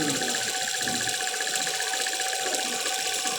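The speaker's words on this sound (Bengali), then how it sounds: "আমরা আবার একটু পাশাপাশি সেলাই করে দেখে নিতেছি।" Brother 800 buttonhole sewing machine stitching steadily after a thread-cutting fault was fixed, a continuous close mechanical whir with fast even stitch rhythm running throughout, no talking.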